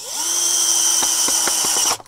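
Power drill boring holes to mount a solar CCTV camera, a steady high whine running loud and close for about two seconds with a few short bumps as the bit bites, then cutting off abruptly.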